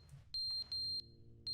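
Fire alarm in the video game The Stanley Parable, a high electronic tone sounding in three short repeated bursts, loud over a low background hum.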